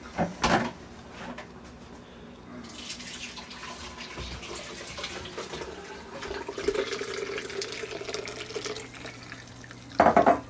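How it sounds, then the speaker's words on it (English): Hot medicinal mushroom tea is strained, with a soft pour and trickle of liquid in the middle of the clip. Sharp clinks and knocks of kitchenware come at the start and at the end. "So I'm going to strain this off here"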